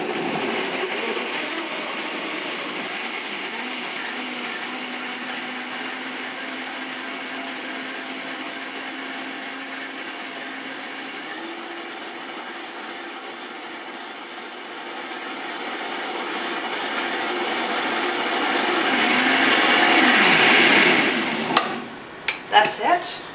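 A blender whirs steadily while blending raw tomato soup with cayenne, its loud motor holding a continuous drone that shifts pitch partway, swells, then cuts off with a few clunks at the end.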